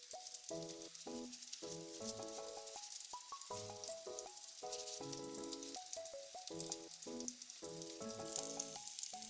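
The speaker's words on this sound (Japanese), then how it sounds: "揚げ焼きにしました。" Sausages wrapped in a flattened coating and dusted with rice flour shallow-fry in oil, giving a steady, soft sizzle that runs beneath melodic background music throughout.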